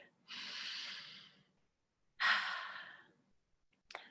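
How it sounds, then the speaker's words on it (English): A group's shared breath in a quiet worship gathering: a long soft inhale, a pause, then a longer audible sigh-like exhale, ending with a brief faint noise. "Let's take a breath together."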